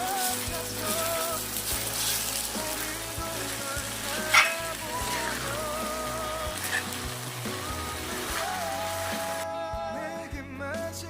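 Sliced cabbage stir-fried in sauce, a steady close sizzle and crackle of frying throughout, with a few clinks of stirring, beneath background music.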